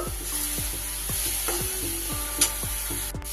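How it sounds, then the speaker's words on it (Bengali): Cabbage leaf paste with turmeric fries in a pan, a steady sizzle broken by repeated scraping strokes of a spatula stirring it, close and moderately loud with no voices. "যতক্ষণ না পুরো জলটা শুকিয়ে যাচ্ছে ততক্ষণ এইভাবে ভাজা ভাজা করতে থাকবো"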